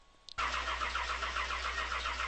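A virtual car's engine cranks and catches in a video game, settling straight into a steady, loud idle, with a faint click and chirp just before ignition and no voices.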